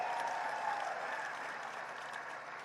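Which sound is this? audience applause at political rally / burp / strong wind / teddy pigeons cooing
audience applause at political rally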